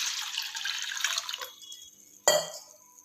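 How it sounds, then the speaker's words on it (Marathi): A jug of water pours steadily into a cooking pot for wheat-flour gulgule, a rushing splash for about a second and a half that fades out, then one sharp, close splash after a pause. "इथे तांब्या पाणी टाकायचं"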